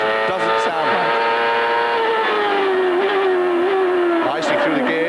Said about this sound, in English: as we ride on board with Jimmy Vassar